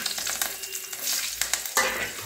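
Fresh green chillies go into oil where pabda fish is frying, producing a loud crackling sizzle broken by stirring scrapes and a sudden burst of hiss near the end.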